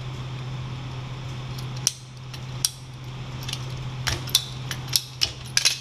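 PEX plumbing pipe cut with a cutter, giving a few sharp snipping clicks and small mechanical clacks over a steady low hum, close and fairly quiet.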